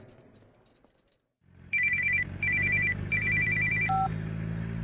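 Telephone ringing in a South Indian film scene: after a brief hush, three bright electronic rings repeat in an even rhythm over a low steady hum, then a short lower tone closes the sequence.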